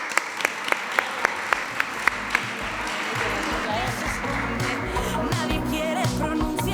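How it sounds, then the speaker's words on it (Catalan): Applause from a charity gala audience for its volunteers rises into a dense, sustained wash of clapping after a few sharp, evenly spaced claps, filling the room steadily to the end. "Un fort aplaudiment per als nostres voluntaris."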